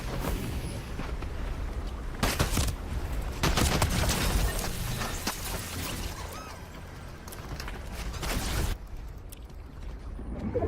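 Video game gunfire erupts in repeated sharp volleys, several loud bursts of shots with brief lulls between them, ending in a quieter stretch of scattered mechanical clicks.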